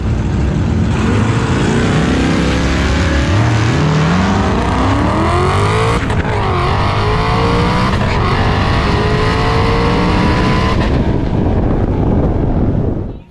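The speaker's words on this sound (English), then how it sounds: "I bog really bad and then get back on the gas and it picks up." A drag racing car launches with a loud, steady engine roar that bogs and sags briefly, then climbs again as the throttle comes back on, rising in pitch as it accelerates hard, close up throughout.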